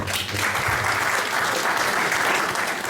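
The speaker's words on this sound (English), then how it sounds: "A round of applause there." Steady applause from an audience at an informal club anniversary celebration in County Mayo, filling the space evenly and continuously at close range with no break.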